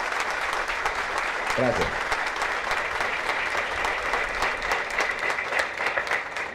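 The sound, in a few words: audience applause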